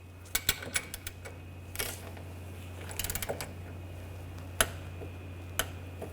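A torque wrench gives several sharp, fairly close ratcheting clicks in short bursts while tightening the wheel bearing bolts on a Buick Encore, over a steady low hum with no talking.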